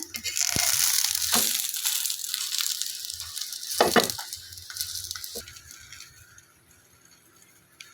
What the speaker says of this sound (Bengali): পরোটাটাকে আস্তে আস্তে লো হিটে জাল করে পরোটাকে ভাজতে হবে